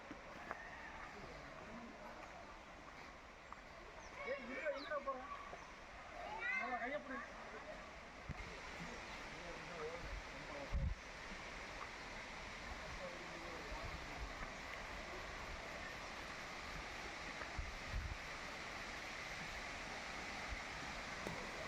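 A waterfall at Thirumoorthy hills near Udumalpet pours in a steady, broadband roar that fills the whole stretch, with people talking briefly over it early on.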